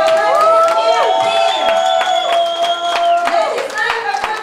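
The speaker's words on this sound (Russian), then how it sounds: "Семьи Завенко, я попрошу ваши аплодисменты." Wedding guests clap loudly together, with cheers and whoops rising above the applause, while music plays underneath. Voices shout across the crowd, and the clapping holds strong before easing near the end.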